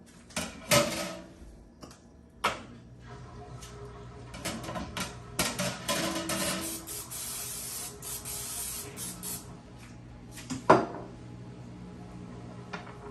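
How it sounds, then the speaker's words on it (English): Several short hissing bursts of an aerosol non-stick oil spray over pork ribs and potatoes for the air fryer, close by, with clatters and knocks of kitchenware in between. "Spray them with oil."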